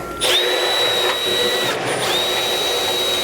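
A power drill bores out a hole in metal to fit a bolt for a Roadmaster Direct-Connect base plate on a 2019 Ford Explorer. It is a loud, close, steady whine that drops briefly mid-run and then spins back up, with no talking.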